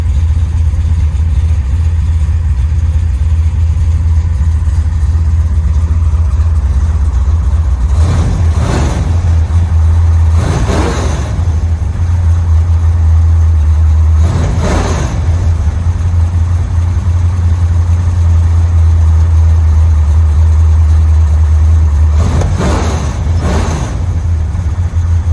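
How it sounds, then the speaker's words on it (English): Big-block V8 in a 1968 Chrysler Newport with long-tube headers, a Holley carburetor and Dynomax Super Turbo exhaust, idling with a deep steady rumble, punctuated by five sharp revs rising and falling, close and loud with no talk. "There's that big motor."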